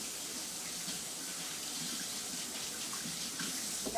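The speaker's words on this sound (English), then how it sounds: "now let's rinse this off" Tap water runs steadily into a kitchen sink while raw chicken is rinsed off before frying, a continuous close hiss and splash without any talk.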